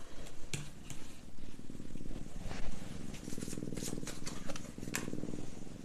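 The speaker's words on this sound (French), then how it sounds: "Et je vous accompagne avec la ronron thérapie de Diva." A domestic cat purring close up, a steady low rhythmic rumble that carries throughout with small breathy variations and a few faint clicks.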